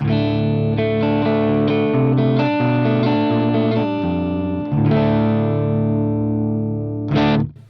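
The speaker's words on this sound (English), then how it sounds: "the guitar on its own into the Vox on the neck pickup" A clean electric guitar on the neck pickup, tuned to drop D, plays a riff of single notes and chords through a Vox tube amp, ringing warmly, ending with a brief, bright strum.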